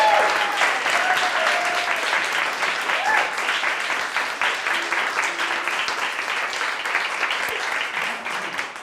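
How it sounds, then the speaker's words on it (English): Theater audience applauding the actors after a performance at a university Constitution Day event, steady, dense clapping from many hands that stays loud and gradually eases, with occasional brief voices. "could you please give the actors a round of applause for their work?"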